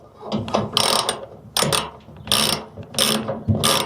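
A wrench tightens bolts with washers onto a threaded rod, giving several close bursts of rapid ratcheting clicks separated by short pauses.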